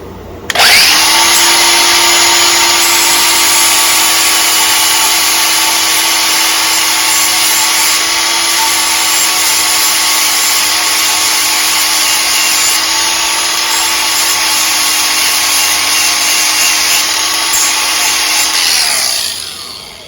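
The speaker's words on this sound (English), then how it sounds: "I need to grind that down." Steady, loud power grinder whine grinding down a raised inner part of a fuel connector on a 9.5 HP Johnson Evinrude outboard motor, running continuously for about eighteen seconds before spinning down.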